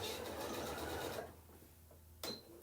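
A sewing machine runs a short back stitch on a fabric placemat, a steady close whir lasting about a second before stopping, followed by a faint click and a brief rustle.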